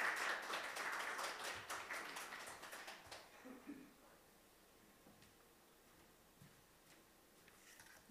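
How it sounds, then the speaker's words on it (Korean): Members of a church congregation at a Sunday service clap to welcome a speaker, a moderate patter of hands for about three seconds, then quiet room sound with faint rustles and a few stray taps. "박수로 청합시다"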